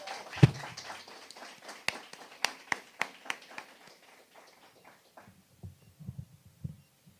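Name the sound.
audience applause after a performance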